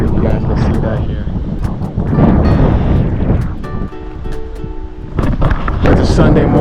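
Wind blowing at Playa de Margaritas beach in Andalusia, Spain, rough gusts buffeting the microphone over surf, with a short stretch of tonal sound in the middle.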